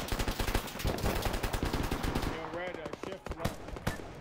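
Rapid machine-gun fire in a modern-day military video game, dense and continuous, with a voice talking over the latter part and scattered shots continuing.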